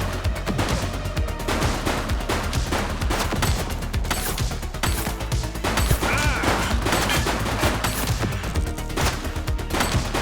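Dense, sustained gunfire from The Precinct, rapid shots cracking one after another at close range for the whole stretch with almost no pause.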